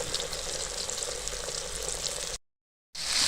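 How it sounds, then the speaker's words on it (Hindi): Korean-style sweet and sour chicken wing pieces fry in hot oil with a loud, continuous crackling sizzle, steady and close, with no talking. "बाकी पीस में हम ऐसे साथ साथ में डाल दे जाएंगे ताकि सारे हमारे पीस अच्छे से फ्राई हो जाए"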